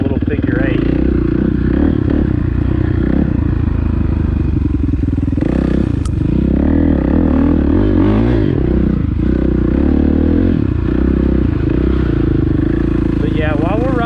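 Motorcycle riding loops around a dirt field, its engine loud and close throughout, the pitch rising and falling with throttle changes and shifting, with wind buffeting and occasional clatter over rough ground.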